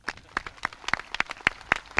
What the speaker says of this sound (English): please join me in a final round of applause for Mr. Benedict